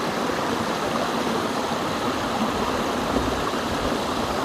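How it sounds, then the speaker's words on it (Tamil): A small roadside waterfall on the way to Maharaja Mettu in the Meghamalai hills gives a steady, close rush of falling water that holds at an even level throughout, with no voices. "மகாராஜா மெட்டுக்கு போகக்கூடிய வழியில் இங்கே ஒரு சின்னதாக ஒரு அருவி ஒன்று வந்துகிட்டு இருக்குது."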